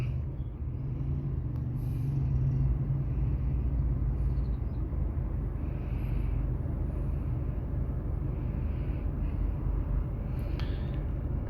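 Big truck pulling out at a subdivision gate, a low heavy engine rumble that holds steady and close, with a few faint higher clicks and hisses over the drone and no talking.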